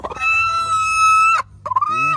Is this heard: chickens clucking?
yes